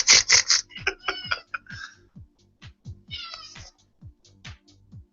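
A pet cat meows repeatedly and close by in a quiet indoor room, with a couple of loud cries at first and then softer, shorter meows spaced out, over a faint low background hum.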